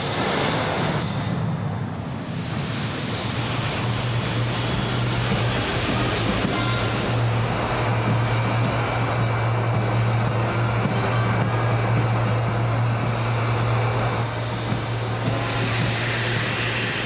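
Steady, loud aircraft jet engine roar with a constant low drone throughout, continuous and unbroken.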